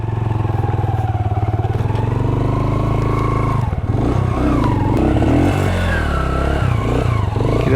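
A motorcycle ridden uphill on a rough road from Kalar Saidan to Panj Pir, a close, loud engine drone with steady low harmonics, then revving and clattering as the load changes partway through.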